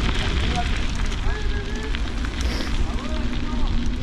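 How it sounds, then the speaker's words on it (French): Steady wind buffeting a GoPro 11 microphone on a Cube cross-country mountain bike riding the slag heaps of Nord-Pas-de-Calais, a continuous loud low roar with faint voices and whistle-like tones mixed in. "On sera au bruit du vent, là."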